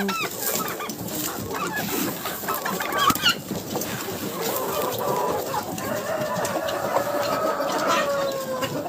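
Young roosters and ducks begging for food and water in a snowy winter village yard, a busy, close chorus of clucking and squawking calls that runs continuously and overlaps.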